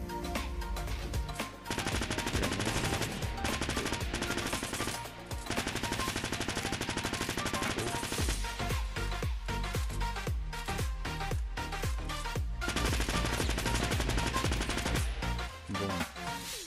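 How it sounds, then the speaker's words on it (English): An old gray SMG in Fortnite fires in rapid, dense bursts for many seconds, with sharp automatic gunfire cracking in close succession and only brief pauses between volleys. "I have a quick clip of both of these SMGs being used"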